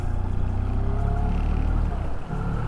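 A small inflatable boat's outboard engine, still in its break-in period, drones steadily and loudly in forward gear on open water on a windy day, with no talk.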